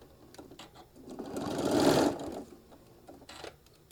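A sewing machine stitches down and back tacks a mini iron travel case in a short quiet run that builds to a steady whir and then stops, followed by faint handling clicks.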